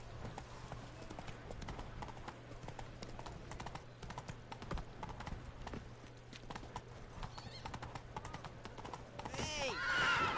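Roach the horse galloping in the video game The Witcher 3: rhythmic clip-clopping hoofbeats run steadily throughout at moderate volume, with a brief whinny and faint voices in the background.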